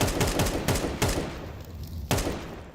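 Rapid bursts of rifle fire from a professional Counter-Strike match, several sharp shots spaced irregularly across the moment, loud and close with no talking over them.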